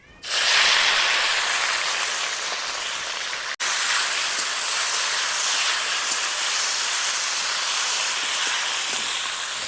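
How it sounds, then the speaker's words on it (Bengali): Boiled elephant apple dropped into hot oil with mustard paste nearby, bursting into a loud, continuous hiss that holds steady for several seconds after a brief break, close and without talk. "এবারে সেদ্ধ করে রাখা চালটা দিয়ে দিলাম।"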